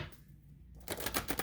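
Paper playing cards being shuffled, a quiet pause followed by a quick run of crisp flutters and light snapping riffles up close.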